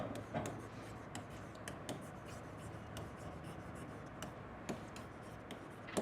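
Chalk or a marker taps and scratches across a classroom board in a steady, irregular series of short close strokes, quiet and without speech.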